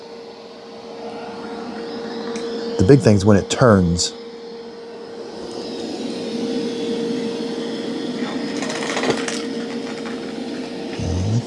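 A Dreame X60 Max Ultra robot vacuum drives over screws on the floor, its steady motor whir sounding throughout, with a short burst of rattling pickup early on and someone talking over it.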